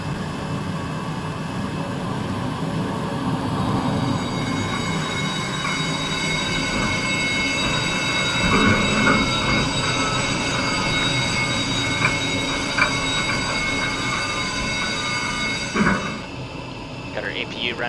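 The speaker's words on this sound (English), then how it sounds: "Got our APU running back there, as you can hear." Airbus A320 (A32NX) auxiliary power unit running at a San Francisco gate in Microsoft Flight Simulator: a steady, loud broadband whine with sustained tonal hum throughout, with brief clunks and a shift near the end.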